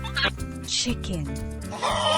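A chicken clucks in short, choppy bursts over light children's music in a nursery-rhyme animal song, brief and fairly close.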